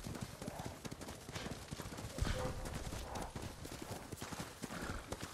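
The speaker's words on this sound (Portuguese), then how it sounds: "Será que o cavalo aguenta 2 km assim, sempre na pirisca?" Galloping horse in the samurai game Ghost of Tsushima: rapid, steady hoofbeats close by, driving on without pause across the whole stretch, with a brief louder thump midway.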